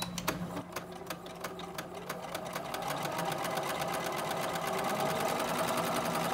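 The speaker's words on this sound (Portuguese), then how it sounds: "É um zigue-zague que ele vem costurando entre os cordões." A sewing machine fitted with a three-hole cording foot runs a zigzag stitch over cords, starting in slower bursts and then settling into a fast, steady mechanical chatter at close range.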